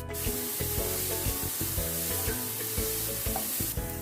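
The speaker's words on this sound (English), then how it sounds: "Saute the onion until they are golden brown." Onions sautéing in hot oil for a veg roll filling, a continuous crackling sizzle broken by regular scraping stirs of a spatula, close and without talk.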